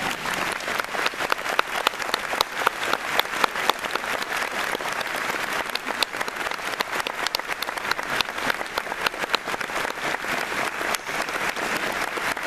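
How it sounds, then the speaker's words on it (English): A church congregation at a United Methodist commissioning service applauds, giving sustained, even clapping from many hands that fills the room without a break. "I think maybe you'd like to applaud for them"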